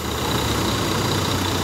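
A premium bus in Aceh, bound for Medan at night, idles with a steady low diesel rumble and constant hum, a brief continuous engine drone with no voices.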